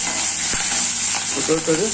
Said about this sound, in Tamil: கருவேப்பில் ஒரு கொத்து நல்லா அலம்பிட்டு அதையும் இதில் போட்டு நல்லா வறுத்து எடுத்துக்கோங்க